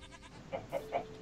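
A Minecraft goat in the Life in the Woods modpack bleats three short times in an even rhythm, fairly faint and slightly distant over a low game background.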